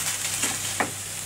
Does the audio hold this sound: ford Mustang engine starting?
no